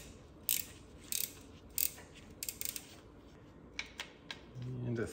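A ratchet with a 13 mm socket works a nut on a Porsche Cayman S 987 engine during teardown, giving short bursts of clicking spaced through the clip, close and fairly loud, with a faint scrape at the end.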